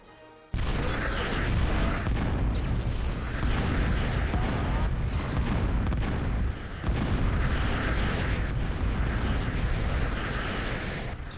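A gun fires in the real-time strategy game Total Annihilation, a heavy, continuous barrage of booming artillery-like blasts and explosions that starts abruptly and keeps rumbling loudly, briefly dipping once midway.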